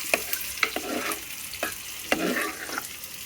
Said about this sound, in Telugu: ఉప్పు వేసి కలుపుకొని పోపు పెట్టేసేయాలన్నమాట